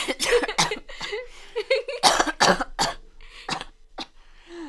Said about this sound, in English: Lots of coughing.